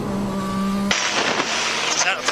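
Formula 1 race cars at the 2021 Dutch Grand Prix, first a sustained high engine whine that then cuts to a broad roaring rush, heard under race commentary.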